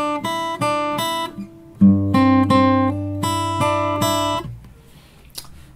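Fingerpicked acoustic guitar playing the melody of a song, a clear plucked line of single notes over a low sustained bass string, solo and close, fading out at the end.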